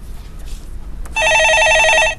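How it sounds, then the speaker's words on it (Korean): A telephone rings in a Korean stock-market call-in broadcast studio: one loud, steady electronic trilling burst of about a second, following a brief quiet pause. "예, 전화 받아보겠습니다."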